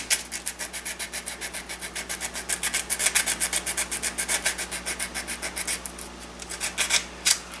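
Sandpaper scuffing the inside of a gun barrel tenon for soldering, a rapid rhythmic rasping of repeated short back-and-forth strokes, close and steady, with a few stronger scrapes near the end.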